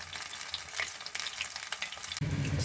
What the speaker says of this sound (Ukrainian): Смажаться вони не дуже довго.